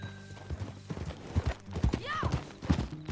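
Horse hooves clip-clopping in the Red Dead Redemption 2 video game, a rhythmic series of close hoof beats with a brief whinny midway and faint speech in the background.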